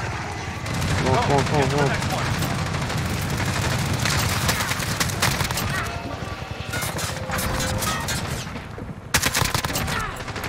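Dense, continuous gunfire from a Call of Duty Modern Warfare match, with rapid bursts and automatic fire, including an AK-47, crackling nonstop under excited talk, sharp close shots standing out near the end.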